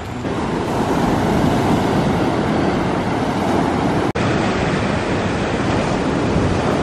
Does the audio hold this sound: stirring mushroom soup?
no